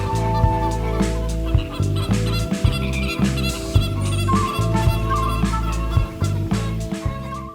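A flock of birds, scarlet ibises and spoonbills, at a waterside aviary in Bird Paradise Singapore, calling in repeated honking, gobbling bursts amid a busy, steady tonal background.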